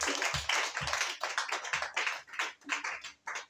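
A church congregation claps during a worship service, a close, brisk patter of many hands that continues without pause for several seconds, with a few heavier thumps mixed in.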